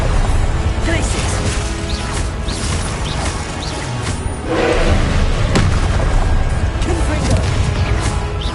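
Glacius ice spell effects cast in the Hogwarts Legacy video game, dense booming and crashing magical impacts layered over continuous loud combat noise, with a heavier burst midway.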